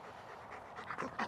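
A police K-9 dog pants quickly and softly at close range after obedience work during emergency service training, with the breathing growing a little louder toward the end.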